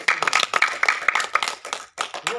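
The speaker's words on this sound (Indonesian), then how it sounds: "Tepuk tangan." A group of people clap their hands in a classroom or rehearsal setting, a dense run of sharp, close claps over about two seconds with a brief gap near the end; some talk mixes in.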